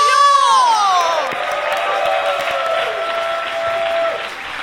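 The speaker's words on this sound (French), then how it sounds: "Un tonnerre d'applaudissements s'il vous plaît pour Marion." Theater audience applause and cheering for the next performer at an evening show in Paris, a loud continuous crowd roar with whoops and bright whistles over the first seconds, then steady clapping that fades slightly near the end.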